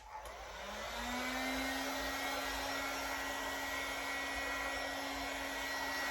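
A heat gun blows a steady, loud whoosh with a sustained motor whine as it warms vinyl wrap on a Dodge Challenger rear bumper, running continuously without talk.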